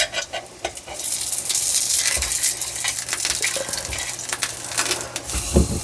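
Bread pakora frying in hot oil in a pan, with a steady close sizzle and bubbling throughout, plus scraping and clinking as the pieces are stirred and flipped over.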